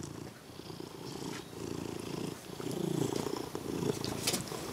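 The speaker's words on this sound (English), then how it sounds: "Yep, he's purring." A cat purrs close up with a steady low rumble that grows fuller partway through, heard alone without talk.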